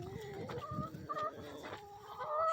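Close, agitated clucking and murmuring from a broody backyard hen, a few short throaty calls rising into a higher squawk near the end.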